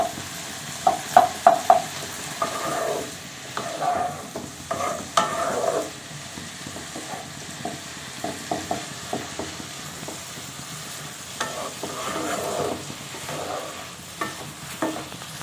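Chopped onions, tomatoes and capsicum stir-fried in a pan for noodles, with steady sizzling and repeated scraping stirs and clinks of a utensil throughout, close and fairly loud.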